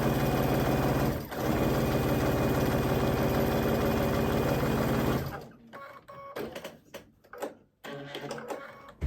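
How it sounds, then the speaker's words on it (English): A sewing machine stitches a quarter-inch seam along a quilt block, running in a loud, steady whir for about five seconds with one brief dip, then stopping to scattered handling noises and short machine bursts. "We are going to sew a 1/4 inch all the way down."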